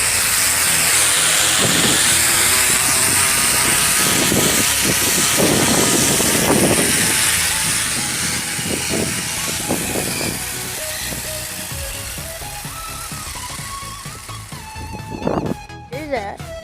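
Bicycle with a paper bag flapping in the spokes to mimic a motorbike, giving a steady, loud, rough buzzing roar that slowly fades, with a person talking over it.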